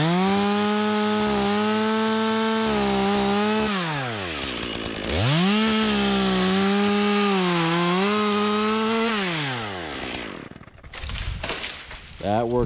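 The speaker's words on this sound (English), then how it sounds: "I like to make a slash cut on something my saw can't cut real fast through if it's too big in diameter, or this is just oak" A chainsaw cuts through a large oak tree, its engine droning loud and steady with pitch dipping and rising as the chain bites into the wood, then cutting off near the end.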